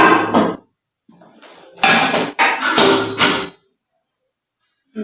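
Clanking handling of a small nonstick frying pan and other new kitchen utensils: a short burst of metallic knocks, a softer rustle, then two loud clattering bursts close by, ending in silence.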